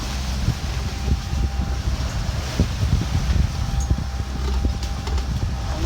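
Sailboat motoring under engine alone after the genoa is dropped, in strong wind with waves on the beam in the Dodecanese between Pserimos and Kalymnos: a steady low rumble under constant wind buffeting the microphone, no talk.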